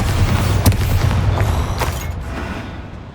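Bombarda spell blast in the video game Hogwarts Legacy, a loud booming explosion with a sharp hit early on, then a rumbling tail that slowly fades.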